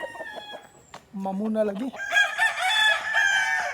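Rooster crowing loudly and nearby with a long drawn call, joined by chickens clucking, while someone speaks briefly in between.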